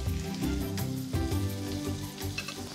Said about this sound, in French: Maintenant, on va cuire nos rougets.